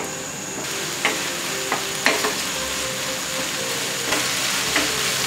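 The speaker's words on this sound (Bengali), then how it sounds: "কিছুক্ষণ নাড়াচাড়া করব।" Chicken pieces fry over raised flame in a pan while a utensil scrapes and stirs them, sharp clinks at intervals over a steady broad sizzle, close and moderately loud with no talking.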